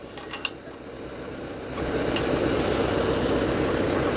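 A small tractor engine drones steadily, its low rumble rising and getting louder partway through as it labours stuck in mud, with a brief click early on.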